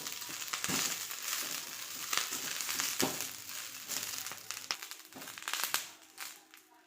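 Curry leaves sizzle and crackle in a pan over a medium flame, stirred continually with scattered sharp scraping clicks of the spoon; quiet and close, with no talking.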